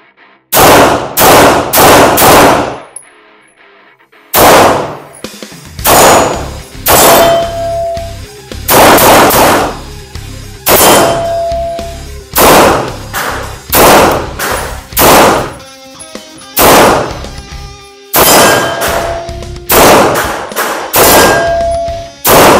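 A Sarsilmaz K11 pistol is test fired in loud, sharp shots: several quick bursts of close reports separated by short pauses, each crack followed by ringing echo and metallic clinks.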